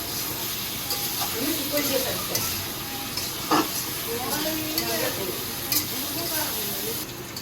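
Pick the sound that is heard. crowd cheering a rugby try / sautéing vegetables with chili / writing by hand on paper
sautéing vegetables with chili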